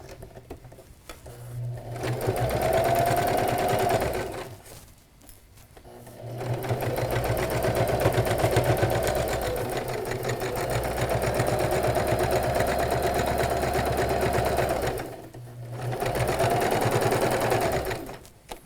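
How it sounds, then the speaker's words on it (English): A sewing machine runs a straight stitch on fabric for an adult tote bag, its motor whirring steadily in two long bursts with brief pauses between, loud and close. "I needed to change my machine to straight stitch"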